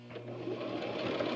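A sewing machine back stitching across a homemade face mask fitted with elastic hair bands, running as a steady close whir with no pauses for the full length.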